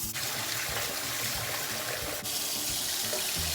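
Very hot water pours into a container to soak sticky rice for a Thai mango dessert, a steady, close splashing stream that runs continuously with no talk.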